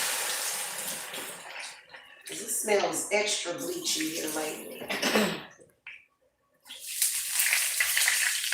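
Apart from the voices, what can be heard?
tap water running into a measuring cup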